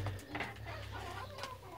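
Pigeons in a loft give short, soft, low coos close by, with a few brief bird calls mixed in and no speech.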